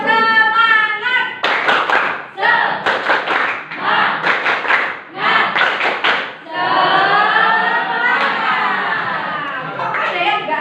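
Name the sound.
group repeating the 'tepuk semangat' rhythmic clapping routine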